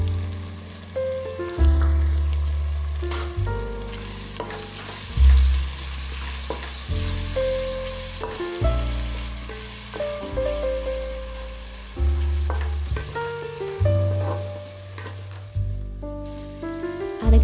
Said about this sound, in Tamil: நல்லா எண்ணெய் பிரிஞ்சு வர முடிக்க நல்லா வதக்கிக்கலாம்